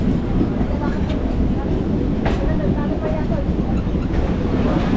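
A commuter train pulls into Dum Dum station near Kolkata, giving a loud continuous rumble of wheels and carriage noise with occasional clanks, while people talk nearby.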